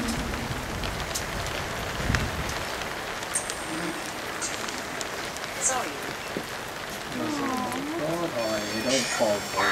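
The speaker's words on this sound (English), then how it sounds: "The rain's really big." Heavy rain falls steadily in a forest at Cannock Chase, a dense constant patter on surfaces throughout, with people talking over it.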